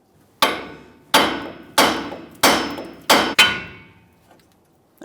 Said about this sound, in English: we're going to continue tapping, but this time it's going to be lower on the knuckle